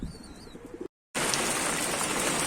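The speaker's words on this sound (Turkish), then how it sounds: "çekimi sonlandırdım ama sağanak yağmura kaldım" Heavy downpour on a balcony where birds are fed: soft bird chirps and faint noise, a brief silence, then a sudden loud, dense, continuous hiss of pouring rain.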